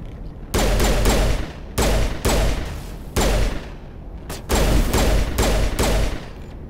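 Pistol gunfire in the video game Mass Effect, loud bursts of rapid shots in several separate volleys with brief pauses between, no talk.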